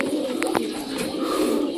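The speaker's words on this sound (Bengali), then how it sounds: "নতুন পায়রা তো একটু ভয় পাবেই" A young Chotiyal Madras pigeon coos in soft low murmurs, close and continuous against a steady background hum.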